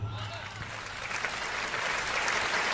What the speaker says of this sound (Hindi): तालियां कमजोर हैं आपकी।